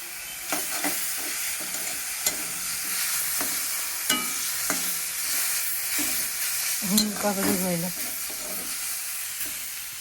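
Tomatoes fry lightly in a home kitchen pan with a steady, moderate sizzle and occasional stirring clatter; a brief voice-like sound rises near the end.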